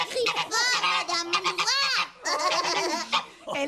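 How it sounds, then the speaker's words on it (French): A goose honks repeatedly in harsh, nasal bursts, loud and close, with short pauses between calls, heard alone without talk. "Depuis le matin, elle n'arrête pas de... Cacarder."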